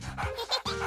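Dog panting in a cartoon: quick, faint, breathy bursts of panting, close and soft, with no talking.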